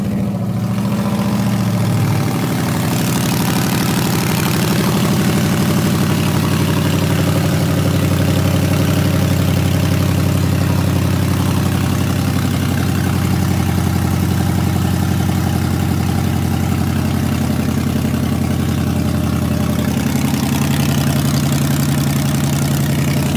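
A Ford Coyote 5.0L V8 in a budget engine swap build starts up and settles into a steady, loud idle, the deep rumble running continuously and close with no one talking.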